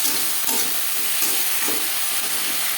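Ginger and green chili paste stirred in hot oil in a pan for a Bengali fish curry, a steady broad sizzle with soft periodic scraping strokes of the spoon, close and continuous.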